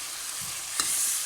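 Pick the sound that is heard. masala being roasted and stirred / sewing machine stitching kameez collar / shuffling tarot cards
masala being roasted and stirred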